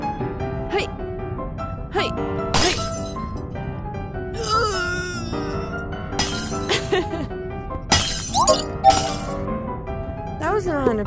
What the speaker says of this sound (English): I was ready to break more glass.